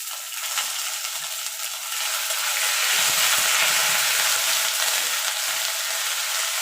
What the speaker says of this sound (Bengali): এবার আদাটাকে আমি একটু ভাজা ভাজা করে নেবো